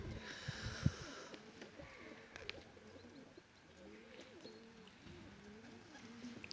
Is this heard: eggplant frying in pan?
no